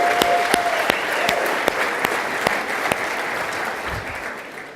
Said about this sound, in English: let's give ourselves a round of applause and create some excitement